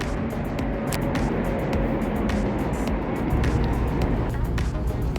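A Lexus SC430 convertible cruising with its top down and windows up: steady road and engine rumble with wind noise, continuous and fairly loud throughout, with a few faint clicks and ticks over the drone.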